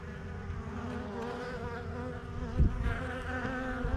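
Honeybees buzz around a hive entrance, a steady close drone of many wings with individual bees swelling louder as they pass near, no voices.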